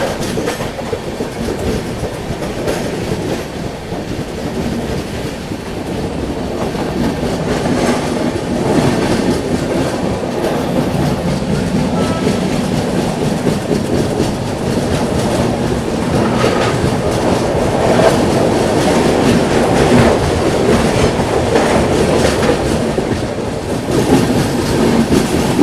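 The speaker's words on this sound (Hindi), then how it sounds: "तो अपनी मंडोवी एक्सप्रेस निकल चुकी है मुंबई के CSMT रेलवे स्टेशन से।" The Mandovi Express from Mumbai CSMT to Goa heard from inside a second AC coach: a continuous rolling rumble with rhythmic wheel clatter, growing louder as the train gathers speed.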